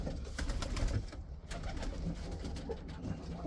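A team of racing pigeon hens, mostly two to four years old, coo inside a loft. The low, overlapping throaty calls come from close by, and no one speaks.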